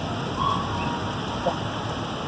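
Rain falls during a Bangalore thunderstorm as a steady, even hiss that holds at moderate loudness throughout, with a few faint brief sounds over it.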